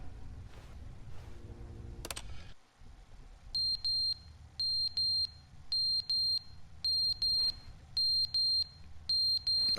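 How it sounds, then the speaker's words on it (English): A repeating electronic fire alarm in the video game The Stanley Parable: Deluxe Edition sounds six bright, evenly spaced high beeps, each in a sustained burst, after a brief sudden transient. "A fire alarm?"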